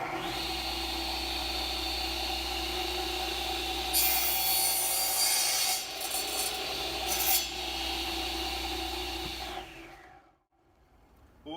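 A radial arm saw cuts through wood in a workshop, a steady loud motor drone with a harsher blade bite from about four to eight seconds, then spinning down and going quiet near the end.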